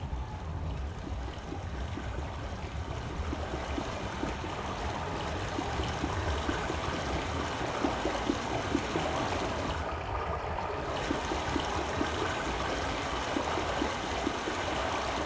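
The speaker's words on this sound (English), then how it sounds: "Pipe water flowing." Water flows through a pipe in the video game Myst, a steady rushing and trickling wash that continues evenly and fairly quietly throughout.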